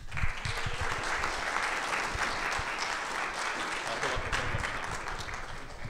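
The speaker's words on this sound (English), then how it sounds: "Thank you all for that nice round of applause" An audience at a homelessness and justice summit gives a sustained round of applause welcoming a speaker, dense and even clapping throughout from a large crowd, close and full.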